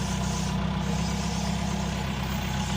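A John Deere 2140 tractor engine runs at a steady idle, a close, loud, low diesel throb with even rhythmic pulsing and no talking.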